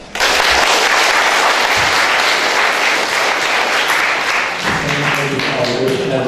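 Loud, dense applause from a ceremony audience marking a victory anniversary in Salyan, steady crackling clapping filling the hall for several seconds before tapering as a voice begins speaking.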